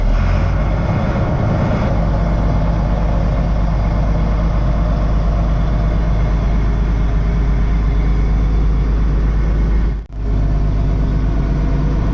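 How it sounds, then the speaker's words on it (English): An International 4900 truck's engine idles steadily in cold weather, a loud continuous diesel rumble with a slightly uneven idle, close by, with one brief dip in level partway through. "The idle's kind of up and down when it's cold, but when it's warm, it smooths out."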